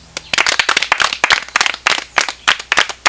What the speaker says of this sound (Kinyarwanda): ndabona mwitabiriye ku bwinshi nimwihe amashyi